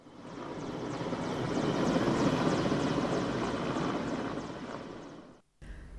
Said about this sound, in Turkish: yerli ve milli Nefes T-70 yangın söndürme helikopteri alevlerle mücadelede etkili rol oynuyor